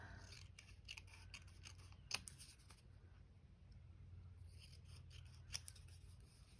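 Scissors cutting paper freehand close up, a quiet series of crisp snips and rustling strokes that come irregularly, with a couple of sharper cuts and no talking.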